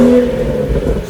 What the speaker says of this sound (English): I'm sure he's got a revving video for us as well of it to show that it sounds a little bit like one.